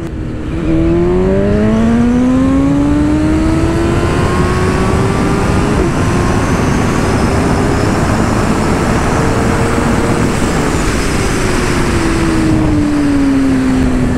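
A 2022 BMW S 1000 RR motorcycle engine in first gear screams up to the rev limiter, pitch climbing then holding a loud sustained wail before easing off, close and without talk.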